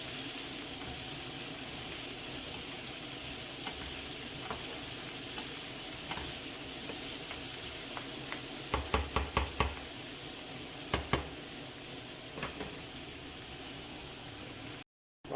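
A one-pan pork and noodles stew sizzles and bubbles steadily on the stove, with a few light scraping clicks of a utensil against the pan partway through and no voices.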